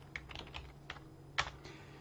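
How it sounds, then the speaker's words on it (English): Typing on a computer keyboard while writing a Visual Basic program, with scattered key clicks in an uneven rhythm over a steady low hum, and one louder keystroke near the end. "I'm going to go to the top of the program and add some space so I can start typing"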